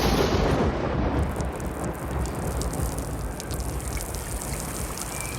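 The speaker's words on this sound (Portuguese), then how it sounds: "São Pedro, chuva!" Heavy, steady rain pouring with a low rumble of thunder beneath it, loudest at the start and then settling into a dense, continuous downpour with no voices.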